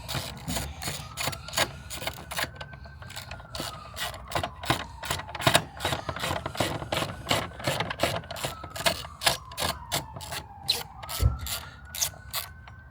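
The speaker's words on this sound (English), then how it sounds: "This is where you're going to get your 13 millimeter and loosen that clamp." A 13 mm ratchet clicks rapidly and steadily while loosening the battery clamp bolt on a VW Jetta SportWagen, with close, crisp repeated pawl ticks and no talking.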